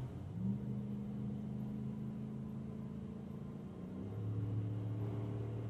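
A 2017 Ram 1500 pickup towing a 2020 Dodge Challenger merges onto a freeway, its engine a low steady drone inside the cab that climbs in pitch as it accelerates near the end.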